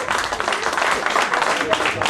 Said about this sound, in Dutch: applaus voor Jazzton en voor Nicky.